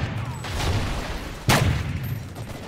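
Gunfire in Call of Duty Ghosts multiplayer, a couple of sharp shots cutting through a steady rumble of game noise, one especially loud crack standing out near the middle.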